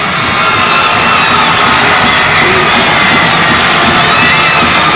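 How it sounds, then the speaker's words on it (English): Ashland fans roar at a 1996 Sweet 16 high school basketball tournament game against Paducah Tilghman, a loud, continuous wall of cheering, shouting and whooping from a packed gym crowd. "And the Ashland fans excited."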